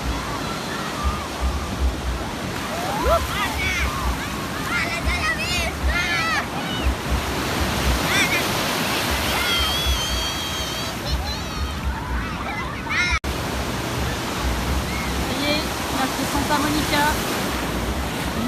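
Broadband ocean surf noise rolls on steadily throughout, waves washing nearby, with a person talking over it and brief bird-like chirps midway.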